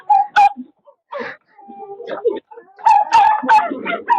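Dogs give several short yips, whimpers and barks in close, uneven bursts with gaps between them, and a voice is heard among them.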